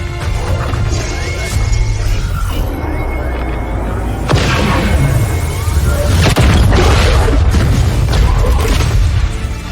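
Heavy cannon shots pound a starship in XCOM 2: War of the Chosen, a run of loud crashing impacts and booms over a rumbling low drone, with sharp hits at roughly four and six seconds.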